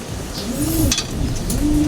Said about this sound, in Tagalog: papakita ko sa inyo yung mga ibon na panglaban ko